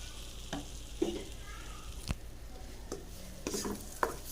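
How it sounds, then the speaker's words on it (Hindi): A prepared spice paste sizzles softly in a pan on a low flame, a quiet steady hiss with occasional scrapes and taps of a spoon stirring it, close and without speech. "तो हल्की आंच पे अच्छे से इसको भी भून लेंगे।"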